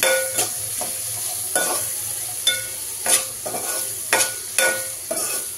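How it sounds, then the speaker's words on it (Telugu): Coarsely crushed garlic is stirred into a hot pan of frying onions while cooking bitter gourd curry, a steady sizzle broken by repeated sharp scraping strokes of a spoon against the pan. "ఇందులోనే కచ్చపచ్చ దంచిన ఎల్లిపాయ వేసుకొని కలుపుకుందాం."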